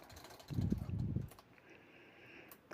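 A sewing machine runs in a brief burst of about a second, stitching the sides of a fabric pocket made from khan cloth, with a low rapid mechanical whir, fairly faint and close.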